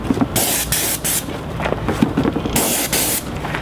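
An airless paint sprayer sprays paint onto the outside of a house in loud, steady bursts of broadband hiss, starting and stopping several times, with short pauses between passes.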